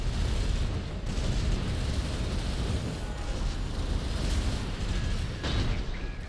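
Loud, continuous rumbling blast noise from a grenade explosion in the mech combat game Armored Core 6 during a PvP match, dense and sustained with no talking.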